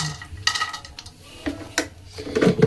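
Dried bori lentil dumplings tossed into a pan of frying peanuts, giving scattered clacks and clatters against the metal pan, with a light sizzle building toward the end.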